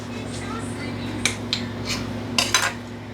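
A kitchen knife is lifted from among metal cutlery while blueberry mini muffins are made, giving a few sharp clinks and one quick double rattle close by over a steady low hum.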